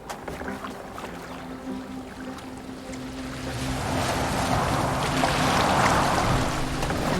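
A boat moves across open water in Assassin's Creed Valhalla, with a low wash of water and wind that builds into louder splashing surf during the second half.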